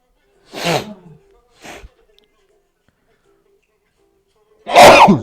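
A person sneezes loudly indoors, a short sneeze and a small follow-up near the start, then a bigger sneeze after a quiet gap, close and alone in a silent room.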